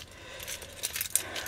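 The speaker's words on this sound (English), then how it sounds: "I got my keys" Keys jangling close by in a brief burst of metallic rattles and clinks, loudest toward the end, with no talk.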